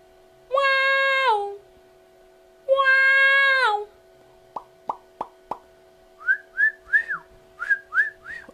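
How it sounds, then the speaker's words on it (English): Two long, clear whistled notes from a mouth, then a few quick pops and a series of short rising whistled chirps, close and alone. "What am I whistling with? I'm whistling with my mouth."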